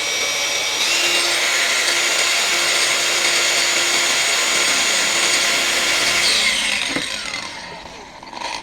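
An APR AP22PRO cordless angle grinder spins freely at high speed, giving a loud sustained whine that holds steady and then winds down near the end.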